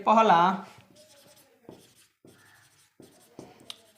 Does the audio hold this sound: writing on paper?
yes